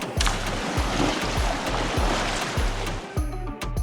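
A cold river flowing across a trail route, a steady close rush of water with rhythmic splashing pulses, loud and continuous with no talk.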